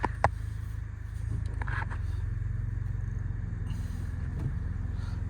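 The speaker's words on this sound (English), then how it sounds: "So to start it up, it's foot on the brake, turn the key, and off she goes." A 2012 Nissan Micra 1.2 Acenta CVT automatic starts with a brief click and crank, then settles into a steady low idle hum close by, with some faint handling noises and no talking.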